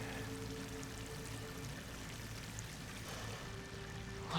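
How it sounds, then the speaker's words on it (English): Water pouring and rushing into an enclosed space with slick walls in Horizon Forbidden West, a steady broadband wash that holds at an even level throughout with no voices. "Water's coming in."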